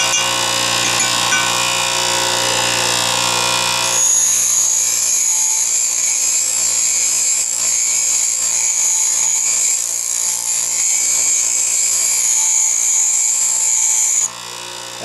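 Lathe threading tool ground on a coarse grinding wheel in a machine shop, a loud continuous high-pitched grinding hiss held steadily for several seconds, with no talking.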